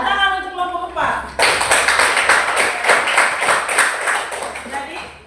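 Classroom students clap for group 4 during a lesson: a teacher's voice is heard briefly, then loud, close, rhythmic group clapping starts abruptly and continues in a steady, slightly uneven beat.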